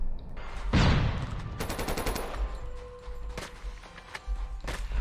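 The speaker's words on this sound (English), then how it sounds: "I missed the easiest shots." Sniper rifle shots at bots in a video game: a loud close blast early, then a rapid burst of sharp cracks and a few later reports, with mechanical game sounds between and no talk.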